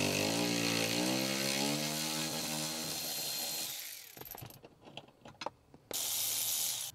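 An E14 socket on a power tool spins out the inverted Torx seat nuts of a Chevrolet Tahoe: a close, loud whirring whine rises and steadies for about four seconds, then gives way to scattered clicks and knocks before a steady hiss returns.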